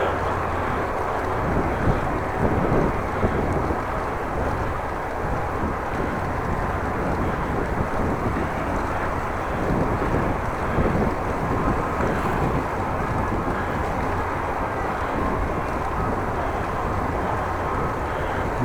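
Steady wind roars into the microphone during a bike ride on a windy afternoon in the Netherlands, a loud continuous rumble and buffeting that lasts throughout with no talk.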